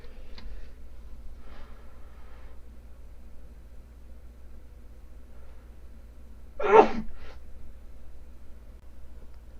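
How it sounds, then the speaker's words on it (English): A single sharp sneeze bursts out near the microphone in an otherwise quiet room, followed by a brief short exhale and a faint background hum. "I'm gonna sneeze"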